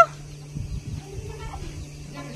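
Hens and chicks cluck softly in a hillside farmyard near an open cattle shed, with short, irregular low calls under a faint steady hum.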